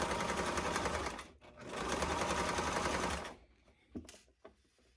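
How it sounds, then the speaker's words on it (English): A sewing machine stitching plush sherpa fabric at a slow pace, two steady runs of close mechanical whirring separated by a short pause, then it stops, leaving a few soft clicks and handling noises. "I tend to sew slower when I'm doing plush, because I just want to make sure always that they are both together and I'm sewing them both."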